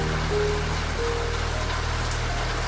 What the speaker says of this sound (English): The rain on the glass draws its long amber threads.